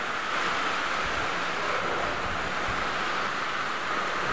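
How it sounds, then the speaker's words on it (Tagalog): Steady, loud rushing noise of strong wind blowing continuously, with no voices. "Medyo mahangin guys."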